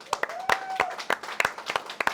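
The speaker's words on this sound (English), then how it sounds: "Can I please give a round of applause to Cameron King" An audience at a cooking competition event claps in brief, sparse applause, with distinct individual claps in an irregular rhythm and a faint voice underneath.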